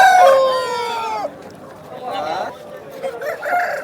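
A rooster crows loudly and close by at a bird market in Vijayawada, one drawn-out call with rising and falling harmonics, followed by softer clucks and a few more short calls from other fowl.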